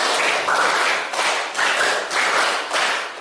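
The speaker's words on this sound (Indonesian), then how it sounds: "tepuk 5 2 kali" A classroom of students claps together in a patterned rhythm, loud synchronized bursts of claps grouped in regular pulses, close and without talk.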